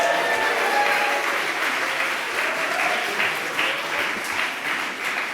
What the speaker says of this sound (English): give a really rousing cheer and round of applause for yourselves